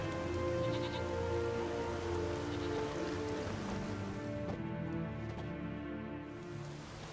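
Steady rain hisses over a rural village in The Witcher 3, a constant wash of falling drops mixed with background music and a faint animal bleat, loud and continuous throughout.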